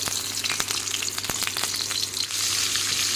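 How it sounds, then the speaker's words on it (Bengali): Fish head frying in hot oil with salt in a home kitchen, a steady close sizzle with scattered crackles and pops running throughout, no voices. "মাছের মাথা দিয়ে থুরের ঘন্ট বানাবো মাছের মাথাটা বেজে নিই"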